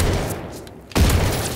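A single close, loud shotgun blast in Call of Duty WWII cuts in sharply after a brief quieter stretch, with a booming low-end thump and a lingering tail.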